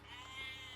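A sheep bleats faintly in a short, soft, steady bleat heard from some distance.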